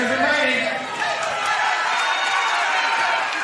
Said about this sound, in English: bit of a cheer to drive their fighter home